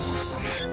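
A duck quack from the Donkey Kong 64 video game, a single short nasal honk, close and loud.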